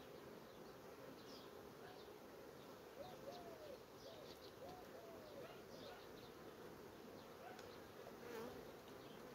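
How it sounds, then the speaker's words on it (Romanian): Honeybees drone in a steady, dense buzz close by, gathering around newly formed queen cups in a hive. Faint bird coos sound in the background. "Acum albinele vor veni imediat pe aceste boci."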